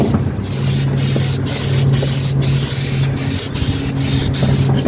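UV-resistant lacquer is sprayed from an aerosol tin onto a car headlight in a continuous close hiss, pulsing slightly as the can sweeps back and forth across the lens.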